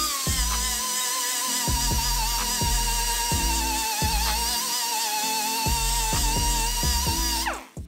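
A cleaning wheel on a power tool sands and polishes an RM250 motorcycle clutch cover, a steady high whine running throughout with rhythmic low thumps as the wheel works the surface, ending abruptly.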